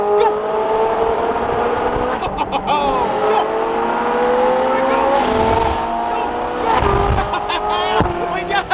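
A naturally aspirated Ferrari 458 accelerates hard on the road, its engine note climbing through repeated rising sweeps with gear changes, loud and close, while people talk over it.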